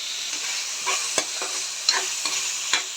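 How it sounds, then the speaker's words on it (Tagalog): Pork fat sautéing in a pan for laing, a steady close sizzle with a few sharp spatters and stirring scrapes throughout, no voices. "At nagigisa tayo ng taba para sa laing"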